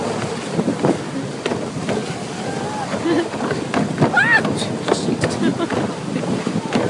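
Boat traveling from a hotel, engine drone mixed with strong wind buffeting the microphone and water wash, steady and loud throughout, with people talking over it.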